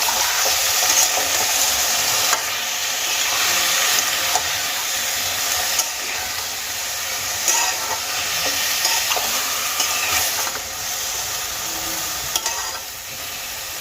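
Thinly sliced raw green tomatoes frying in hot oil for a tomato bharta, a loud, dense hiss of sizzling that carries on without a break, with occasional faint scrapes and clinks.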